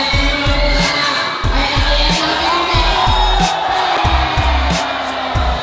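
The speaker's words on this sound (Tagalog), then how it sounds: "Grabe sigawan yung mga tao dyan." A basketball game crowd roars and cheers loudly over a pounding, rhythmic low thump like an arena drumbeat, with the noisy shouting continuous throughout.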